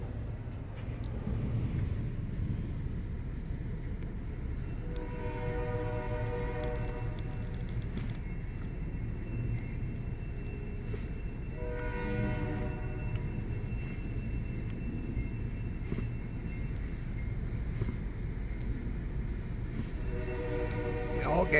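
A CSX or Norfolk Southern freight train rumbles past on a nearby track in Ohio, with steady low railcar noise throughout and three long horn blasts sounding at intervals, mid-distance.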